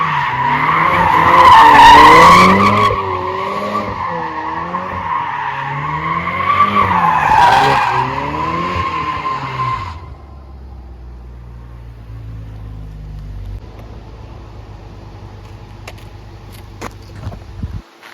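Ford Mustang tuner car drifting in circles, tires squealing loudly in long wavering screeches for about ten seconds under engine roar, then dropping to a low idling rumble with faint clicks.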